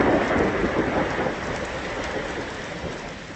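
Steady heavy rain with a rumbling undertone of thunder, part of a recorded collection of Earth's natural sounds, broadband and continuous at moderate loudness with no voices.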